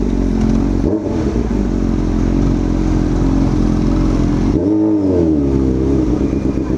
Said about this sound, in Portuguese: tô precisando dar uma esquentada no motor dessa moto